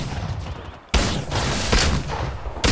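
Sustained gunfire in the mobile battle-royale shooter Apex Legends Mobile, with dense overlapping automatic bursts from an R-301 rifle and EVA-8 shotgun. The volleys are loud and close, with a brief lull before firing resumes.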